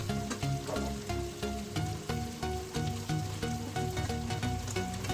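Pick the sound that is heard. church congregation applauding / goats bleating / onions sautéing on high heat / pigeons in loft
onions sautéing on high heat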